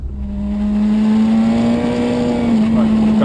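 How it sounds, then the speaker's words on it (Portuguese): A motor vehicle races past at high speed, its engine a loud sustained steady drone with a strong whine that holds across the whole few seconds, close to the listener. "o carro vai a alta velocidade"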